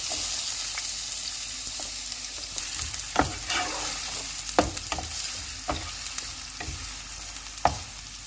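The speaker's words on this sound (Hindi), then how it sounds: "ऑयल अभी गर्म हो गया, इसमें प्याज डाल देते हैं।" Onion sizzles in hot oil with a soft, steady crackle, punctuated every second or so by sharp clinks and scrapes of a stirring spoon against the pan.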